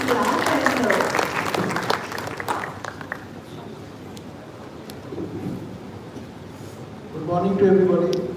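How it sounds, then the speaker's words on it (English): Audience applause fills a conference hall at a leadership and innovation event, a broad patter in the middle of the clip, with an amplified voice speaking before and after it. "Can you please clap"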